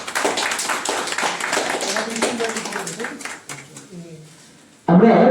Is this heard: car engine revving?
no